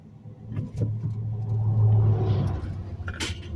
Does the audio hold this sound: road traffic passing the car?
yes